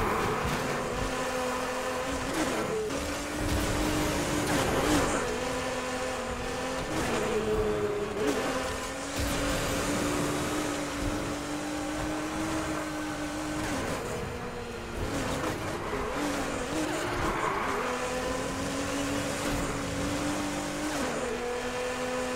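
Aston Martin sports car in the racing game NFS Heat, its engine droning steadily at high revs throughout, pitch rising and dipping with gear changes over a long continuous run.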